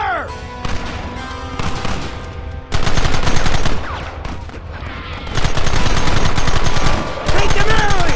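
Gunfire in the Western video game Red Dead Redemption, a dense, loud barrage of rapid shots and fusillades with short gaps, rattling continuously and close.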